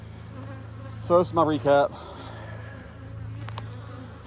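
A steady low buzz of honeybees hums throughout at a garden apiary, with a man's brief remark partway through.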